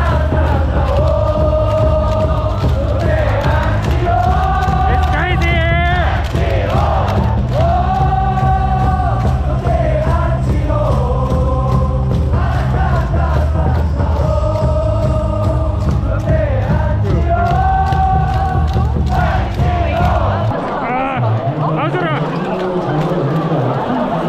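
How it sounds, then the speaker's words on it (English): A large baseball crowd at a Lotte Giants game in Busan chants and cheers loudly in unison, in a sustained rhythmic wall of voices that drops away abruptly just before the end. "Just be prepared to lose your voice from all the cheering"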